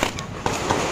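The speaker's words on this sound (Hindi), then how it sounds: "अभी यहाँ पे फूटने वाली पूरी माल लड़ी देखो भाई" A string of firecrackers bursting during Diwali, close and loud, a dense rapid crackling of pops with no voices.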